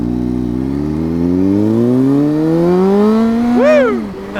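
A motorcycle fresh from an oil change revs up in one long, smooth climb, the engine pitch rising steadily over several seconds before a sharp final blip and quick drop, loud and close with no talking.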